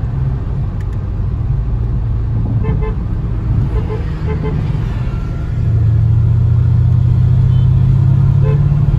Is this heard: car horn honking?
yes